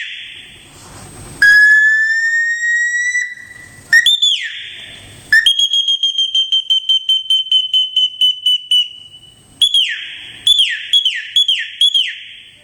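A shrill water whistle imitating bird song warbles and trills in bursts, rising glides and rapid pulsing chirps, loud and clear with short pauses between phrases.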